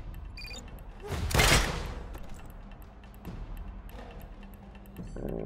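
Gunfire in the video game Wasteland 3, a loud burst of shots near the start swelling into a booming volley, then fading into quieter scattered combat noise and a few later impacts.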